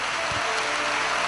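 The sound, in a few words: congregation applauding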